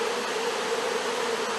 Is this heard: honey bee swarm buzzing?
yes